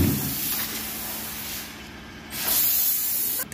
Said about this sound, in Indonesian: mau pulang jadi bersih-bersih dulu, semprot